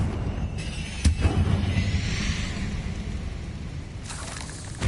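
Confringo blasting spell in Hogwarts Legacy, a sharp blast with a deep rumbling boom, then a fading hiss and a second burst of noise toward the end.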